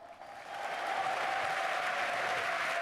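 A large conference crowd breaks into sustained applause as a guest is welcomed onstage, the clapping swelling quickly and holding steady and dense throughout.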